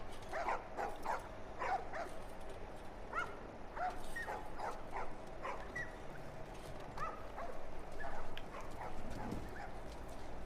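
Several dogs in The Last of Us yip, bark and whimper in quick irregular bursts at moderate distance, with the yelps overlapping one another across the scene over a low background murmur.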